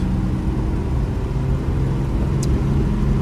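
A 1958 Jaguar XK 150 engine drones steadily and loudly from inside the car while driving on an open road, with a smooth shift from second to third gear blending into the continuous low hum.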